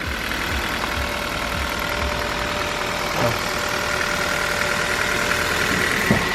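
Kia Rio 2017 with a manual gearbox idling, a steady mid-range engine hum with light knocking texture, constant and close, no talk.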